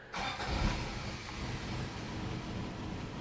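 Old Toyota pickup truck engine idling rough after a fuel pump replacement, running low on bad gas; a close, steady, uneven low rumble heard alone.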